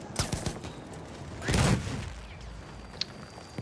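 Battlefield 1 combat: a close burst of gunfire with sharp cracks at the start, then a heavier blast-like surge, followed by scattered distant shots against a busy battlefield background.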